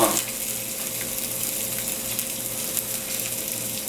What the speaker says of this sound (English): So we'll heat the sausage up